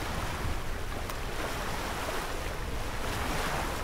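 A steady rushing wind gust on open ocean in the Sailaway sailing simulator during a Volvo Ocean Race leg from Lisbon, loud and constant broadband roar mixed with water wash, with no talking.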